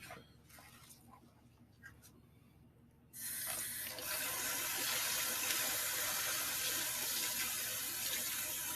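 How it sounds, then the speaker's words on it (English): Tap water runs into a container as two pounds of rice are washed for honey makgeolli. A quiet, faint rustle comes first, then a loud, steady gush of water pours continuously. "Then once we get the rice washed, we'll take it and we'll let it set up."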